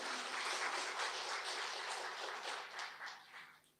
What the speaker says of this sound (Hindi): भाई तालियां तो बजाओ